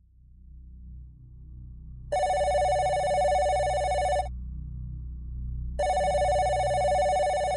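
Telephone ringing in two long electronic bursts separated by a pause of about a second and a half, loud and near over a low background hum.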